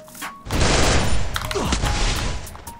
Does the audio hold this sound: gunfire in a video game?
yes